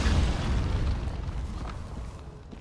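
A heavy booming impact from a giant archer's sniping shot in Dark Souls III, a single loud low blast that rumbles and slowly fades.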